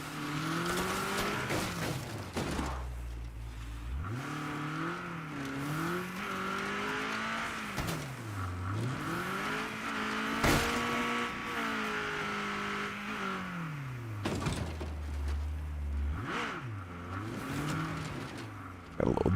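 A racing car engine in the video game State of Decay 2 revs and shifts repeatedly, pitch sweeping up and down with tire squeals and a few impacts, loud and continuous with little talk.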